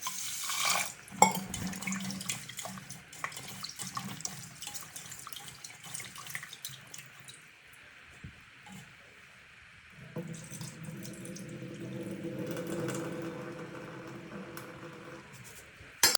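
Tap water runs steadily into a basin during washing in a village kitchen while cooking egg curry, close and continuous, with brief clinks of dishes and a shift in the flow partway through; no one speaks.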